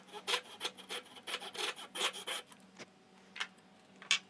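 A hand saw cuts dovetails in wood guided by a magnetic Katz-Moses jig, with a run of quick rasping back-and-forth strokes that pause, then a few isolated strokes, close and fairly quiet.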